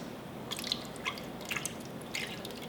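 Thick homemade enchilada sauce, about 10 ounces, pours into a kitchen mixer bowl, giving a few soft wet drips and squishy splats spaced over a couple of seconds against quiet room noise.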